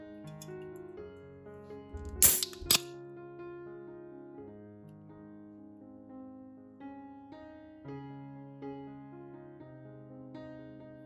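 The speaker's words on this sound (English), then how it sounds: "Now open a can of Coca-Cola." A Coca-Cola can is cracked open with a sharp pop followed quickly by a second short snap, standing out briefly above soft background music.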